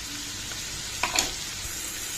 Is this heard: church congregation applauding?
no